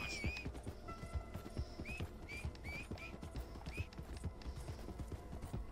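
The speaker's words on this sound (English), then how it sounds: "Here's my horse." Horse hooves clip-clop in a quick, fairly even rhythm in the Red Dead Online video game, with chirping birds in the background and brief talk over the top.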